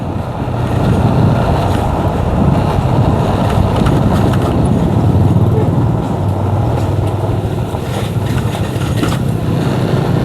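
Loud, close motorcycle engine and wind roar while riding on the road in the morning around Kamal, Sumedang, a dense continuous rumble with brief vocal bits mixed in.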